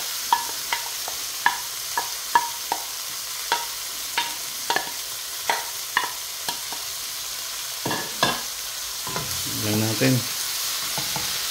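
Ampalaya (bitter gourd) pieces stir-fried with tomatoes, a steady sizzle in the pan broken by a series of sharp spatula scrapes and clanks on the metal, with a brief word spoken near the end.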